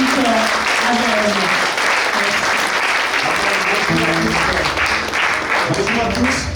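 A church congregation bursts into sustained, dense applause that fills the room steadily and loudly, with voices and cheering blending into the clapping throughout.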